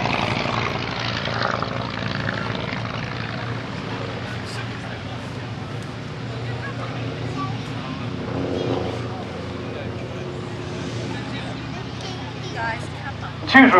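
Vintage Avro Tutor and Hawker Tomtit biplanes run their radial piston engines at an airfield in a steady, moderately distant propeller drone, with a voice talking over it throughout.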